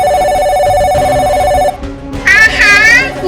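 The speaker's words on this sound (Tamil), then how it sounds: "யாரோட செல்போனோ அடிக்குது" A cell phone rings in a classroom, a steady electronic ringtone tone, loud and close, then a shift to a warbling melodic ring tone partly mixed with a voice.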